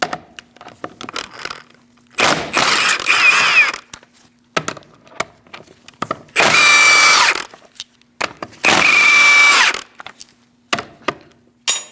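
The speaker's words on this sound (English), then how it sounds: "Using a 17mm socket, we're going to remove our wheel." A power tool fitted with a 17mm socket spins off the wheel lug nuts on a 2000-2006 Mini Cooper, sounding in three loud, separate bursts of about a second each, with quiet clicks and handling noises in between.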